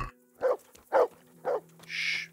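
Three evenly spaced dog barks over a low electronic hum, followed by a short hiss, with game-like ambience and no talking, from the video game Kingdom Come: Deliverance.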